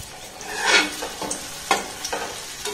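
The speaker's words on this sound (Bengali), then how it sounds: "এবার যে সুন্দর পিঠেটা আমি বানিয়ে নিয়েছি সেটাই তেলের মধ্যে দিয়ে দেব।" Palm-fruit pitha frying in medium-hot oil in a frying pan, giving a soft, steady sizzle with a few sharper crackles and light clinks of stirring, close and alone.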